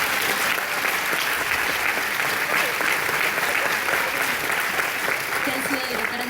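An audience at a film festival seminar at the University of Buenos Aires applauds in a dense, steady, loud wash of clapping that continues throughout.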